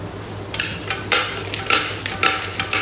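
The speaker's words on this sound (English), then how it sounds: "we'll give it a stir" Black rice and corn salad being stirred in a Thermomix bowl, close scraping and swishing strokes repeating in short bursts over a low steady hum.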